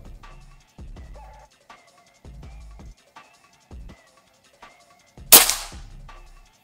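A Bocap Brontax 500 cc PCP air rifle fires one sharp, loud crack that rings out briefly, following several quiet clicks and clunks of handling.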